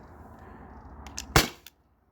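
A T4E HDP50 Gen 2 CO2 pistol loaded with a single steel ball bearing fires one sharp, close, loud pop, preceded by faint clicks and followed by a brief tail.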